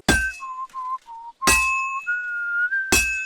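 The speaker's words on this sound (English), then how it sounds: "trying to match the beating of my hammer to Henry's whistling so it doesn't pause" Henry whistles a tune while hammering at a blacksmith's forge in Kingdom Come Deliverance 2, sharp metallic hammer strikes ringing out at intervals between steady whistled notes, clear and close with no talking.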